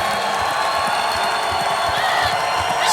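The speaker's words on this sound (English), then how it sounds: "this Seattle crowd now coming to life" A Seattle crowd cheers at a Legends Football League game, a steady roar of voices with whoops that swells toward the end.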